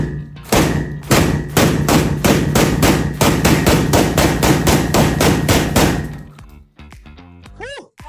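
A 12 gauge shotgun fed from a 20-round drum magazine firing in rapid succession, a dense string of loud, close, evenly spaced blasts lasting several seconds, followed by a voice exclaiming.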